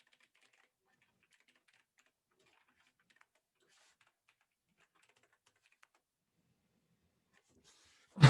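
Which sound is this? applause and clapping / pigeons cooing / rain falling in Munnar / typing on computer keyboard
typing on computer keyboard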